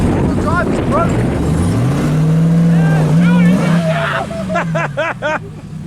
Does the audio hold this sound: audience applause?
no